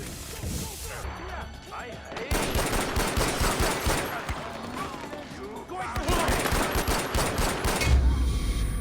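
Rapid pistol gunfire in a video game, dense bursts of shots with crashes and impacts mixed in, loud and busy throughout, with a voice talking over parts of it.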